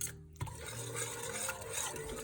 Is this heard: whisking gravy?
yes